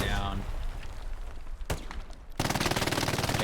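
Machine gun hipfire in a large-team online shooter match, heard as a dense, rapid burst of close gunfire that cuts in sharply after a stretch of noisy battle ambience and a single loud crack.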